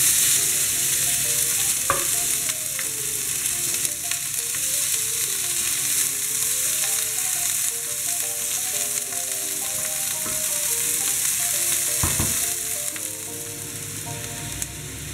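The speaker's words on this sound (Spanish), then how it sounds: "Cuando esté calentito el aceite, añadimos la cebolla." Chopped onion sizzles and fries steadily in hot oil in a pan for a mushroom quiche, with occasional stirring scrapes and clinks of a utensil, close and continuous throughout without any talk.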